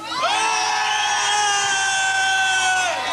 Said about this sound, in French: Faites du bruit, applaudissements ici.